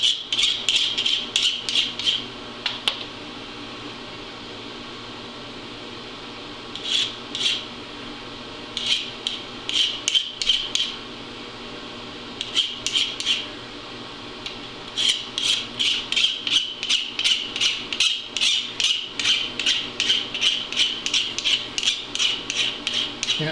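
Deburring a metal shifter saddle bushing, close rapid scraping strokes in rhythmic bursts of filing-like rasps, separated by short pauses, fairly loud with no talk.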